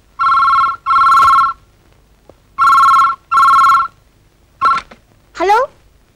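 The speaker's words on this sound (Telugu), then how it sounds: "మావయ్య, నీకు ఫోన్ ఎవరో అమ్మాయి చేసింది" A telephone bell rings loudly in a home setting, four long electronic trill bursts in two pairs, followed by shorter chirps and a rising warble, with no talk over it.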